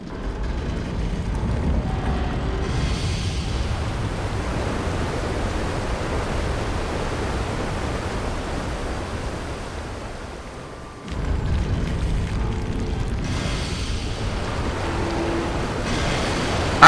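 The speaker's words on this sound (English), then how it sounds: "A faint trickle of water is audible at the edge of your hearing. It grows steadily into a roaring torrent." Flood water rushes as a roaring torrent in the video game Pillars of Eternity. A steady, loud broadband wash fills the whole clip, dips briefly near the middle, then surges back, with no speech.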